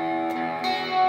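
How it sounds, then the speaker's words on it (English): Electric guitar played through a crunchy drive pedal, a single sustained chord ringing with harmonic-rich distortion, picked again partway through, close and alone with no talking. "The third pedal I wanna use is a drive pedal"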